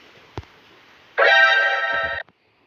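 Lit TNT block in the Minecraft video game giving off a strange, harsh, buzzing hum that lasts about a second, preceded by a single short click, with quiet around it.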